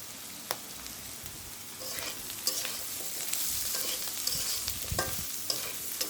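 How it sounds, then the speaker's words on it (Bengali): Boiled jackfruit seeds fry with spices in a pan, giving a steady close sizzle with repeated scraping and clattering strokes as they are stirred, and the hiss grows fuller partway through, with no voices. "এখন এই সব উপকরণগুলো একসঙ্গে মিলিয়ে আমি ঢাকনা দিয়ে ঢেকে ঢেকে বেশ কিছুক্ষণ হাতে সময় নিয়ে ভাজা ভাজা করে নেব।"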